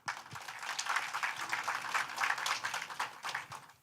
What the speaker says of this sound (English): A big applause for all of them